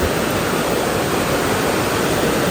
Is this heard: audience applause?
no